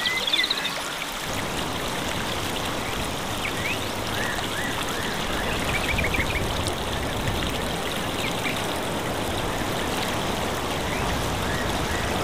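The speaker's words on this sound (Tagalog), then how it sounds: "Nasa ilog po kami." River water flows in a constant, close rushing wash with fine splashing and trickling, steady throughout, with no talking.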